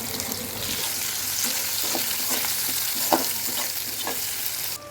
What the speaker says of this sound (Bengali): পেঁয়াজটা হালকা ভাজা হয়েছে